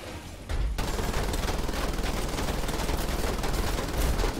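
Rapid gunfire in Wolfenstein: The Old Blood, during a prison level, starts abruptly after a brief pause and then hammers on as a loud, sustained fusillade to the end.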